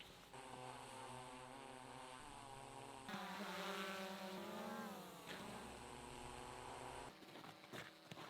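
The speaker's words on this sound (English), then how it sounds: "Oh, I hear the drone. I think I got a package delivery." A delivery drone flies overhead with a steady, loud buzzing motor whine whose pitch shifts and swells in the middle before settling, continuous throughout with no talk.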